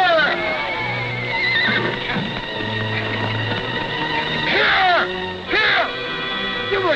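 A horse whinnies loudly in a western TV episode, with long shrill neighs rising and falling over a busy background of orchestral music and other sound.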